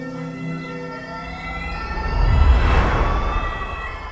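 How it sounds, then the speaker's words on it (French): A SMUR emergency ambulance races down a narrow village street. Its wailing siren tones sweep overhead while a loud engine rush swells as it passes close by, then eases away. "une ambulance du SMUR vient troubler la quiétude du village"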